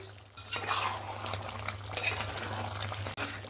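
Chicken meat, local desi bird, being stirred in an uncovered pan while it browns, with steady scraping and clinking of a utensil against the pan over a low hum, continuous and close.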